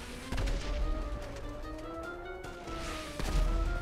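Sniper gunfire in GTA V Online comes as a few sharp, loud shots spaced seconds apart over low background rumble.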